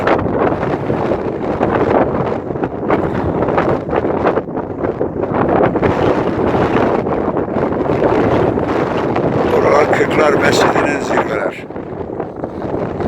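Strong wind on a high summit with wind turbines buffets the microphone in a loud, continuous rumbling roar, gusting throughout with brief shifts in intensity.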